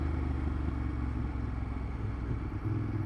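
Moto Guzzi Griso motorcycle being ridden, heard as a steady low engine rumble with a continuous wind-like roar, fairly quiet and unbroken, with no talking.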